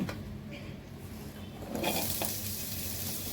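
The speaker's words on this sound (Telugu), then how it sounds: "ఇప్పుడు ఉల్లిపాయలు వేసుకుని" Onions dropped into a hot pan for a ripe red chilli and onion chutney, with a sudden louder sizzle rising partway through and continuing steadily, close by, over a low background hum.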